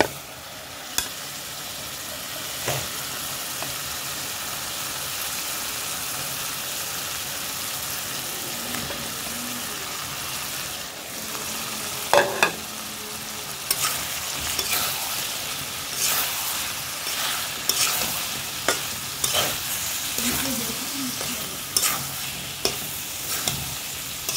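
Drumsticks go into a frying curry alongside cooking okra and are stirred. A continuous sizzle runs under repeated scraping and clanking strokes of a spoon against the pan, growing busier in the second half.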